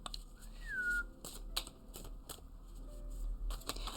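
One short rising-then-falling whistle from a person, close and clear, followed by a few soft clicks and taps in an otherwise quiet room.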